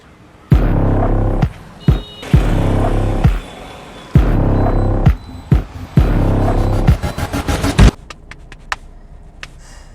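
A nearby auto rickshaw engine throbs in repeated loud bursts of low rumbling, separated by sharp clicks and brief pauses, then cuts off into quieter rattles.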